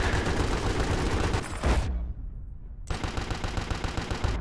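Rapid automatic gunfire fills the scene in Battlefield: Bad Company 2, a dense burst of loud shots that breaks off into a short near-silent gap before another sustained volley resumes.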